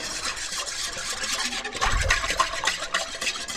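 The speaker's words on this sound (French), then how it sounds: "Et je mélange pour bien diluer la petite levure." Dry yeast and sugar being stirred in a bowl, a steady scraping swirl that stays even throughout with a slightly fuller stretch near the middle.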